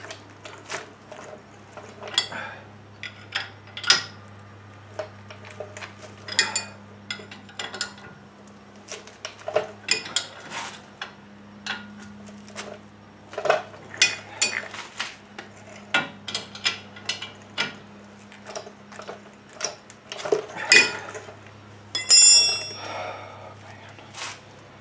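Scattered metallic clanks, clicks and ratcheting taps come from tightening parts during a brake job on a 2004 GMC Sierra 1500, with irregular bursts over a low steady hum and occasional voices.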